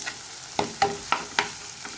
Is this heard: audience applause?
no